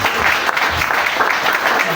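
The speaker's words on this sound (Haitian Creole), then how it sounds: "Applaudissez la parole de Dieu" A church congregation applauds, with a continuous, fairly loud patter of many hands clapping throughout a short stretch, close and filling the room.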